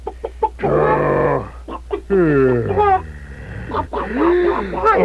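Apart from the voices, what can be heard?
hen clucking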